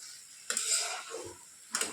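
A curry being stirred in a covered pan gives a few clinking scrapes and taps of a utensil against the cookware, with a soft sizzle underneath.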